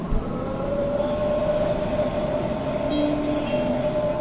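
A train runs at Central Station with a continuous, fairly loud rumble and steady hum, a brief high whine emerging near the end, with no talk.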